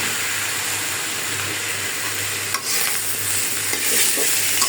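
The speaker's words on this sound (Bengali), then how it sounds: "এখন আমি ধুয়ে রাখা বেগুন দিয়ে দিই, সাথে আছে ছোট একটা আলু, একসাথে সব কিছু ভাজি হয়ে যাবে।" Eggplant and a small potato fry together in a pan, making a loud, continuous close-up sizzle with a brief stir partway through and no talking.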